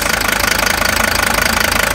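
Mercedes W123 with an OM617 diesel engine and a new injection pump runs with the fuel turned all the way up, a loud, close, steady rapid diesel clatter throughout.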